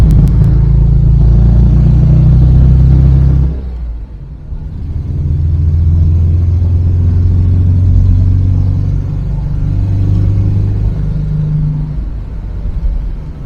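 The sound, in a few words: 1982 Volkswagen Gol LS car driving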